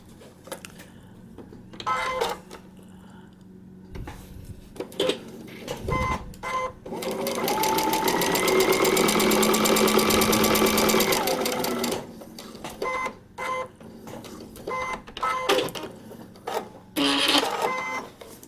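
A sewing machine stitches a paper-pieced quilt block in one steady, loud run lasting several seconds, with softer handling noises and short machine bursts before and after.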